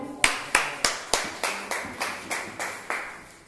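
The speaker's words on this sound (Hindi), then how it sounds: "ताली।" Audience claps in about ten sharp, evenly spaced beats at a Bhagat Singh birthday gathering, loud and in unison like a rhythmic group clap, with no talk over it.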